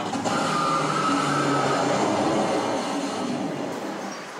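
Hydraulic launch roller coaster train driven by 32 hydraulic motors accelerating from 0 to 120 mph, a loud continuous rushing roar with a rising whine, close and dense, easing slightly toward the end.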